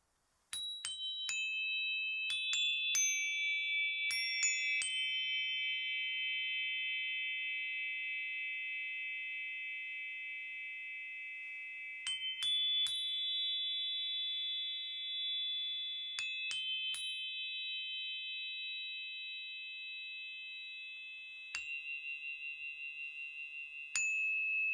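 Chakra Chimes energy chimes by Elfen Harmonics, several metal tones struck in small clusters, each ringing out in long, clear, overlapping sustains that slowly fade, with fresh strikes every few seconds and nothing else audible.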